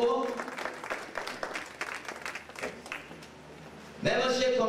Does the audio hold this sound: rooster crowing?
no